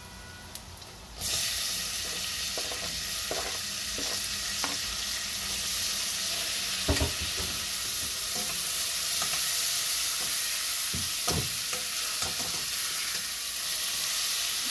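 Tinapa sautéing with tomatoes in a pan: a steady, close hiss of frying that swells as food hits the oil, with occasional clicks and scrapes of stirring.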